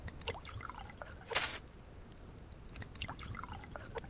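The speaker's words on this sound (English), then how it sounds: "I'm just going to use dirty water to fill that up" Dirty water trickles and drips into a container, a faint, uneven dribble with small splashes and one brief louder gush midway.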